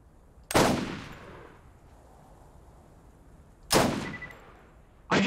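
Sniper rifle shots in Borderlands, three loud sharp cracks spaced a few seconds apart, each with a long decaying echo tail, the last one cut off; no talking between the shots.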